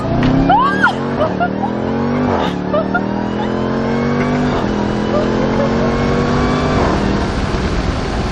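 A Jeep Grand Cherokee Trackhawk engine revs up and accelerates hard from a launch, its pitch climbing through several gear shifts, with excited voices over the roar.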